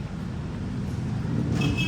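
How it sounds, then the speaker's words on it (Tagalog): Road traffic passes below a flyover in Tagaytay, a steady low rumble of car and vehicle engines with a faint rise near the end. "Kita mo naman yung traffic dito kabayan sa ilalim mo."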